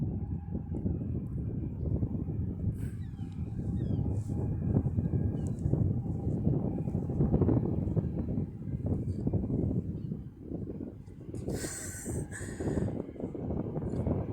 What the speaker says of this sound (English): You can hear it whirring and tearing down through the taxiway.